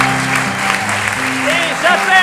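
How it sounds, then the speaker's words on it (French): Audience applause at an improv theatre show in Paris as performers head backstage, a steady broad clapping wash under loud sustained music tones and a presenter's voice. "Et on va les applaudir pendant qu'ils retournent en coulisses"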